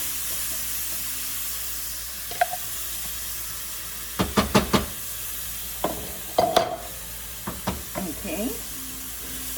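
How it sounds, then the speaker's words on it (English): Salt pork stir-frying in a pan for a Caribbean dish, a steady broad sizzle running throughout, with scattered utensil clicks and scrapes and a brief spoken word partway through. "We throw it in there, stir fry."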